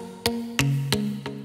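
A muted guitar sample with delay applied plays four separate chord stabs, evenly spaced and fairly quiet, each one decaying quickly into the next.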